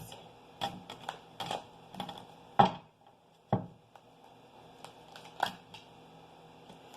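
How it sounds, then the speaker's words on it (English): Tarot cards are shuffled in irregular bursts of soft riffling and sharp taps, close and fairly quiet, with short pauses between. "Okay, one more shuffle."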